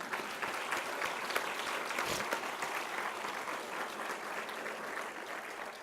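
Audience at a college State of the College address applauding for an IT leader, a continuous, fairly distant patter of many hands clapping at a quiet, even level.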